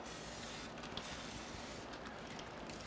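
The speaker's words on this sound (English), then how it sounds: "we're just gonna spray this good with Pam" Pam cooking spray hisses into a Dutch oven in two short soft bursts, faint and close, with no talking.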